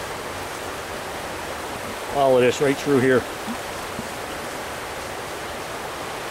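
A small fly-fishing stream rushes with a steady broadband wash of flowing water, close and constant, while someone speaks briefly over it.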